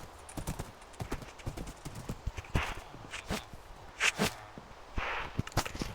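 A horse's hooves clip-clop in the Minecraft video game, with a steady run of close, crisp steps and a few louder, breathy bursts mixed in.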